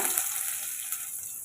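Steady loud sizzling of onions frying in hot oil, a continuous hiss from start to finish.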